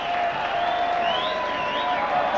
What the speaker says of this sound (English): Big cheer from the Saints contingent.